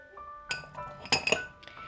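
A metal teaspoon clinks against a glass dish while salt is measured out for flatbread dough, a few light chinks close by, with one brighter cluster of taps in the middle.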